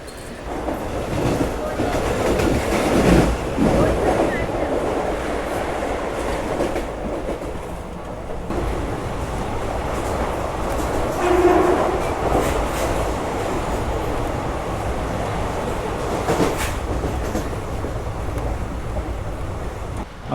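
A slow passenger train pulls away from a station platform on the Mumbai–Ahmedabad route with a continuous rumble and rattle of carriages and faint wheel clatter, heard close alongside with someone talking over it.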